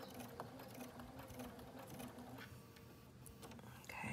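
A sewing machine stitches a quilt in a neutrals quilt class, a steady close mechanical whirr with a rapid needle rhythm running throughout, without speech.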